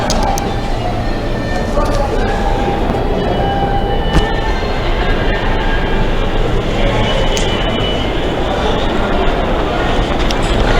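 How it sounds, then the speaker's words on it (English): An R subway train pulls out of the uptown platform at Canal Street station in New York, a steady loud rumble of wheels and motors filling the whole stretch, with faint chatter mixed in. "Let's wait for the R train to depart."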